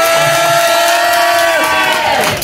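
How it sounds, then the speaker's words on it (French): A concert crowd cheers and shouts loudly in a continuous, close roar, with whoops rising over the din and a few voices mixed in. "Vous pouvez l'applaudir,"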